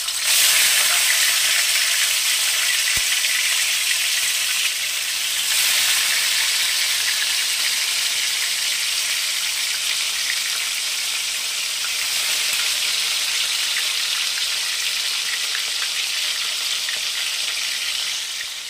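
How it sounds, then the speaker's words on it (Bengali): Katla fish frying in hot oil in a pan, a steady loud hissing sizzle that runs continuously with brief surges, no voices. "আমি এবারে আস্তে আস্তে সবকটা মাছ ভেজে নেব।"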